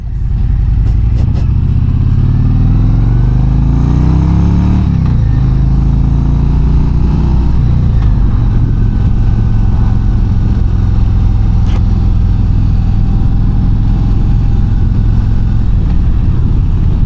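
A 2025 Harley-Davidson CVO Road Glide rides out on a test run, its engine droning steadily and loud throughout, with a rising rev near the start and constant road and wind noise.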